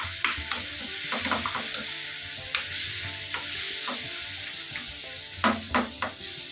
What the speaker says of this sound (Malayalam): ഗ്യാസ് ഒന്ന് സിമ്മാക്കി കൊടുക്കാം ഇത് നന്നായിട്ട് ഇങ്ങനെ ഉടച്ചുടച്ച് കൊടുക്കാം